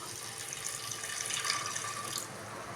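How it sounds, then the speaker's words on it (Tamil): Water pours into a cooking pot of thalcha, a Tamil meat stew with goat fat and meat, heard as a steady, soft rushing splash that runs on evenly throughout with no talking. "கொஞ்சம் தண்ணி சேர்த்துக்கலாம்."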